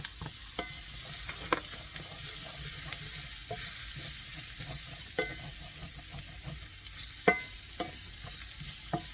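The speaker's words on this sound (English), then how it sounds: "we're going to go ahead and throw in this garlic that we had minced up" Minced garlic sizzles steadily in a skillet while a chicken dish cooks, a soft continuous hiss broken by occasional sharp scrapes and taps of a utensil; no one speaks.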